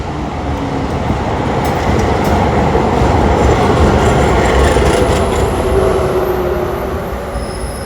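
Trains at Porta Nuova railway station in Turin, Italy: a loud, close, continuous rumble of rolling rail cars with wheel squeal and rhythmic clatter, swelling and easing slightly over several seconds, no voices.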